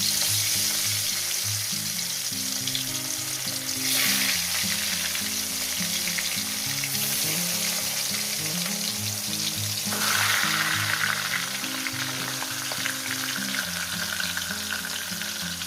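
Pieces of shol fish fry in hot oil with a dense, continuous close-up sizzle that swells in places, while a low tonal background hum runs underneath and no one speaks.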